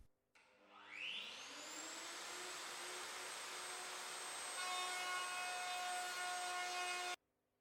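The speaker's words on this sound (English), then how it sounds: "The female joint on the worktop edge has to be formed in several passes of the router, adjusting the depth with each pass." Router cutting a female joint into a kitchen worktop edge: the motor spins up to a high whine, then holds a steady, loud cutting roar for several seconds before stopping abruptly, with no speech.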